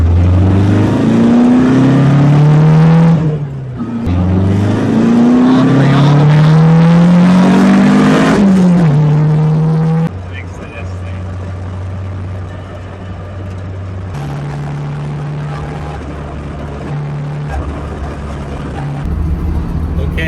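A Toyota Corolla AE71/TE72 accelerates hard through two rising engine pulls with a gear change between, then settles into a steady, lower cruising drone as it drives on.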